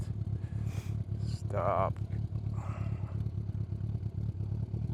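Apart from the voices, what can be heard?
custom bobber motorcycle engine while shifting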